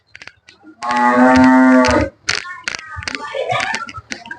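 A Jersey cross dairy cow for sale gives one loud, close moo lasting about a second, followed by voices talking nearby.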